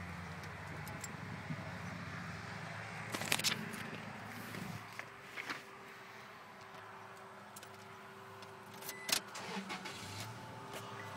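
2006 Toyota Tacoma engine cranking and catching, then settling into a quiet steady idle heard faintly from nearby, with a few brief clicks and knocks.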